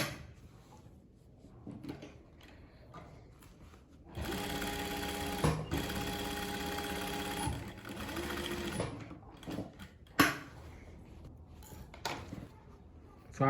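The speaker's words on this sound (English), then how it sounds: "So now we'll go to the machine and now we stitch here." A sewing machine stitches a single welt pocket, a close rapid mechanical whirring burst of about five seconds, then a shorter second run, set among quiet handling and clicks of fabric.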